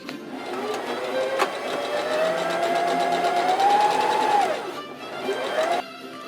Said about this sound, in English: I'm going to go ahead and sew up where they should have connected